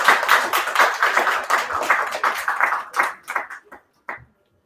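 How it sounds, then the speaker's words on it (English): A small audience claps after a performance, a few pairs of hands clapping briskly at close range, breaking into scattered last claps before stopping. "Please give both of them a round of applause."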